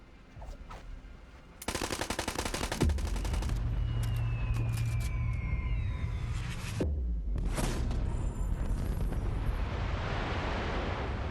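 In the Borderlands 3 video game, rapid automatic gunfire blasts continuously at the moon, loud and dense, over a rumbling roar, followed by a long whooshing descent and a heavy crashing impact.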